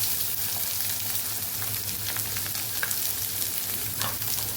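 Chopped onions sauté in a pan for a potato and yogurt curry, a steady close crackling sizzle with occasional stirring clicks and a watery hiss.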